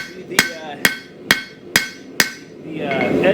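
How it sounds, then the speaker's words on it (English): Hammer blows forging the edge of a frontier-style knife blade made from a coil spring, five sharp evenly spaced metallic strikes close up, then a rising rustling noise. "I'm hammering more on the side of the edge."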